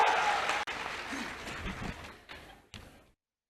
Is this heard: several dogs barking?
no